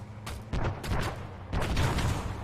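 RPG rocket fire in an Arma battle: several sharp, booming blasts crack out in quick succession, loud and close, with a dense rumbling wash between the bangs.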